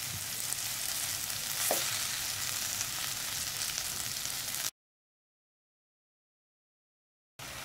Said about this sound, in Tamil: வெங்காயம் வதங்கினதும் தக்காளி சேர்த்துக்கலாம்.